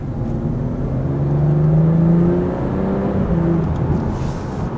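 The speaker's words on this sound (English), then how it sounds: "It's where you start to hear a little bit of the engine." A BMW F30 with a B58 engine and a muffler-delete exhaust, heard as a muffled rev that swells to a peak around two seconds and then eases to a steady drone, from inside the car. No talking.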